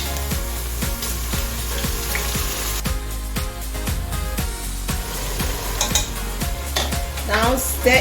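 A spoon stirs a pot of efo riro vegetable soup with meat and stockfish, giving repeated scraping and clanking strokes against the pot over a steady low hum, close and continuous.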